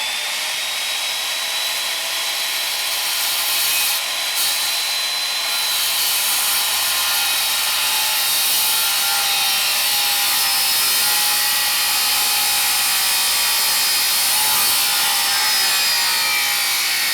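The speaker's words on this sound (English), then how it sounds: "This will be the most difficult cut, because I got to come in from the back side to make the 3rd cut." A hand saw cuts through wood for an outdoor staircase rebuild, giving a steady, continuous rasping stroke that runs loud and close throughout with no talk.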